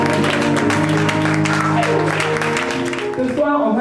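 A church congregation applauds steadily and loudly throughout, a dense wash of clapping running under sustained music and a singing voice before fading at the end.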